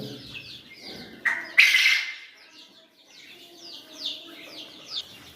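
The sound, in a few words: quails squawking in a cage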